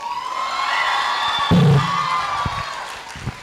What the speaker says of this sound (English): please cheer loudly for your parents